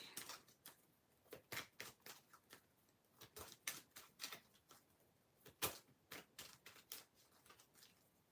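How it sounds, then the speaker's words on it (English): Pokémon trading card deck being shuffled by hand, a quiet run of crisp, rapid card riffles and taps in irregular bursts, fairly close and alone without talk. "And then shuffle my deck."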